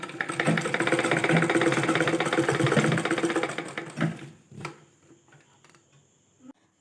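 Domestic sewing machine stitching an invisible zip, a steady buzzing whir of rapid needle strokes running loud and close for about four seconds, then stopping, followed by faint handling clicks and rustles.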